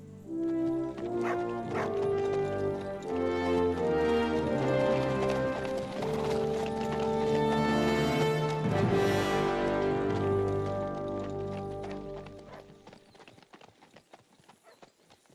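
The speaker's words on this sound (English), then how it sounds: "The horse clops. Sounds so good." Horse hooves clop rhythmically in the medieval video game Kingdom Come Deliverance II, set against a loud musical score before everything fades out near the end.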